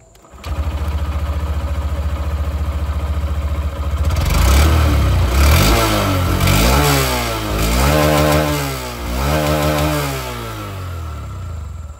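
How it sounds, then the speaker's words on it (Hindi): A Honda Shine 125 OBD2B motorcycle engine idles steadily up close, then is revved several times in rising and falling sweeps before dropping back, loud and alone with no talk. "अब मैं आप लोगों को यहाँ पर ये जो शाइन 125 OBD2B मॉडल है इसकी जो आवाज़ है ये भी मैं आप लोगों को यहाँ पर सुना दूँ"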